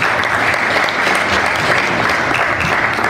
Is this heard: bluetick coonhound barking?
no